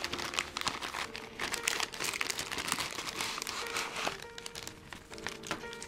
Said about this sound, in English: open up the Ziploc